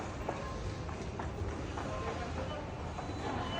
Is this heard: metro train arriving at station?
yes